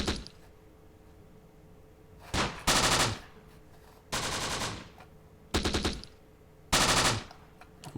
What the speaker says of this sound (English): our rifle team is already returning fire